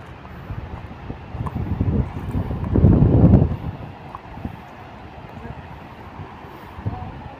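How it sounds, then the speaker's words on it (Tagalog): Gusty wind at Seeb beach in Muscat, Oman buffets the microphone with a low rumbling roar, swelling strongly for a moment before settling back to a steady blow. "Napakalamig ng simoy ng hangin mga kabady."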